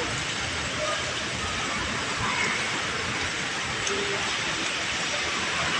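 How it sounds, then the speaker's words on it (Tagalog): Steady heavy rain pouring down on a flooded street by the LRT on CM Recto, a dense continuous hiss that stays loud and even throughout. "Lakas pa ng ulan."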